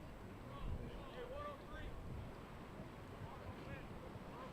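Strong gusting wind of around 30 mph, up to 50, at an outdoor baseball double-header buffets the microphone with a constant low rumbling roar, while an announcer's voice talks faintly beneath it.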